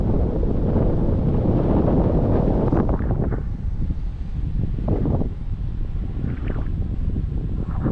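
Strong wind buffeting the microphone at a tandem paragliding site in Kunda, Estonia, in a steady rumbling roar, with gusts rising and falling, no voices heard.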